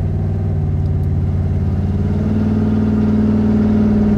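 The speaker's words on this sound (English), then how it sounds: "this motor runs good" A 1972 Pontiac LeMans engine runs steadily at idle, a loud, close, even low rumble with a slight rhythmic throb, heard alone without talk.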